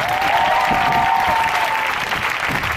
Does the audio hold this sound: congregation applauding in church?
yes